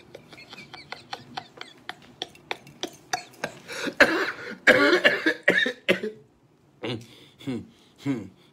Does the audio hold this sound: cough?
yes